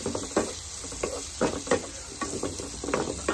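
Ginger garlic paste, heavier on garlic, sizzling in hot oil with fish in a pan, with irregular scraping stir strokes and crackling bursts over a soft background hiss, close and moderately loud, no talking.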